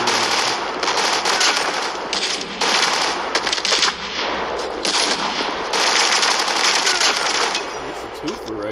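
Rapid bursts of 12-gauge shotgun fire ring out in a Call of Duty Mobile free-for-all match, loud, repeated and dense with game effects, while a player talks over the action.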